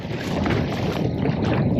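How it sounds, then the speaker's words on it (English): Strong wind gusts over a kayak on Hen and Chicken Bay between Cabarita and Abbotsford, a loud, rough roar buffeting the microphone with low rumble and faint water motion beneath. "Why is it so windy?"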